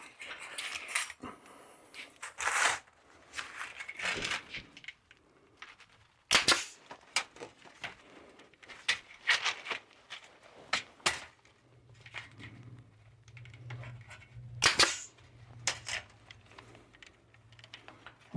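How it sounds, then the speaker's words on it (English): Staple gun firing into a wooden varroa screen floor for an 8-frame Langstroth beehive, giving sharp close clacks in irregular bursts with handling noise between, alone without talk. "Now we want to staple that to that."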